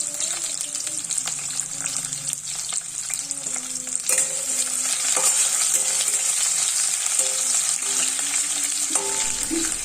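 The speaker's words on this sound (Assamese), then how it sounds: "এইবাৰ পিঁয়াজখিনি দি এইখিনিও অকণমান সময়" Finely chopped onions frying in a pan for a jackfruit curry, a steady bright sizzle with occasional stirring clinks and scrapes, close and continuous without any talk.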